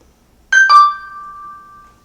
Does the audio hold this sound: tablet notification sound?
yes